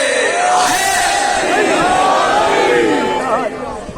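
A crowd at a Shia religious gathering for 18 Safar in Railway Colony, Mohammad Nagar, Wazirabad roars slogans together, a loud sustained wall of massed voices rising and falling, then thinning toward the end.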